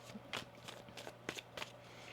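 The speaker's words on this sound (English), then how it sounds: "One more shuffle here." Tarot cards being shuffled by hand, a few soft, quick riffling bursts separated by short pauses, close and quiet against a faint background hum.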